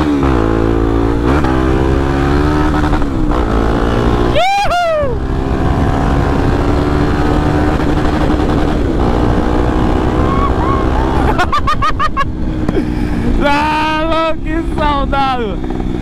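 Honda XRE 300 motorcycle, new, engine and exhaust heard while riding: a loud, steady drone that stays constant throughout, with brief rising whistle-like sweeps partway through and several sharp clicks near the end.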